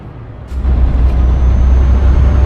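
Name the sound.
train foundry truck that sounds like a train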